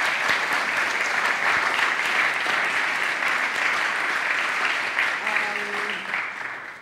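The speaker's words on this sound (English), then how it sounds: "do give the Colchin family a round of applause" A church congregation applauds the Colchin family at a Sunday service, steady clapping that carries for several seconds, with a short spoken voice rising near the end as the sound tapers off.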